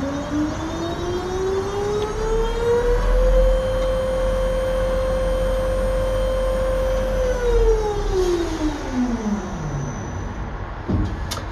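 Tower crane hoisting at full speed with its brake released, a steady electric motor whine rising in pitch, holding level, then winding down, over a constant mechanical drone.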